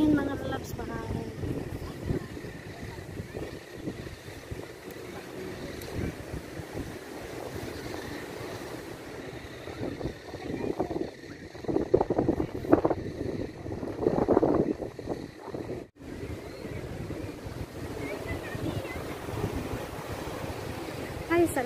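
Gusty wind buffeting the microphone outdoors with surf in the background, rising in strong bursts midway, while people talk faintly underneath.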